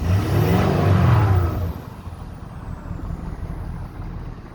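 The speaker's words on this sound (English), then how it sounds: "Give you a light rev." A 2013 Ford F-250 Platinum 4x4 with the 6.7 diesel gives a short, light rev, a loud low rumble swelling for about a second and a half before settling back to a steady idle.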